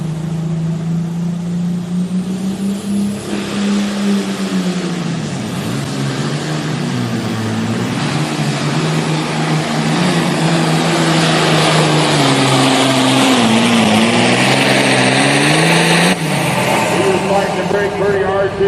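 John Deere super farm tractor roaring through a pull at a tractor-pulling event in Altamont, IL, its loud, steady engine drone rising and dipping in pitch throughout, with an announcer talking over it.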